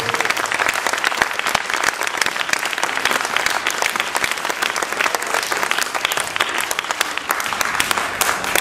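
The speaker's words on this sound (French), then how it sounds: "je vous demande d'applaudir très fort Francis Descamps qui nous accueille ce soir" An audience at a live show applauds Francis Decamps, a dense, steady wall of many hands clapping that holds loud and even throughout, with no voices above it.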